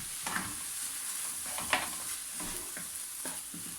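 A sizzling dish stirred in a pan, the soft frying hiss steady beneath a few scraping strokes of the spoon, fairly quiet and close.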